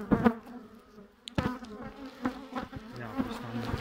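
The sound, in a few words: bees buzzing at a beehive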